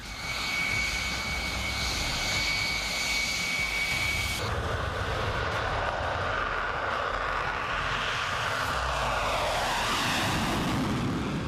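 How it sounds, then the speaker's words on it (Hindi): Taiwanese missile-armed fighter jets roar overhead during a military drill, a loud continuous jet rumble with a high whine that shifts midway as the aircraft pass. "ताइवान ने सबसे एडवांस्ड और मिसाइल से लैस फाइटर जेट्स को अपनी मिलिट्री ड्रिल में उतारा है।"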